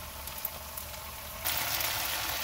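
Mongolian chicken cooks in a pan with brown sugar, low-sodium soy sauce, ginger and garlic, giving a constant sizzling hiss that grows noticeably louder partway through, with no talking.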